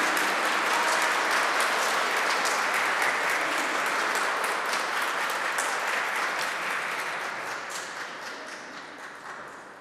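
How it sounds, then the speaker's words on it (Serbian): An audience at an award ceremony for a craft exhibition claps for a weaving master, a dense and sustained round of applause that holds steady and then slowly tapers off near the end. "Molim aplauz za majstora tkanja Katarinu Mandić."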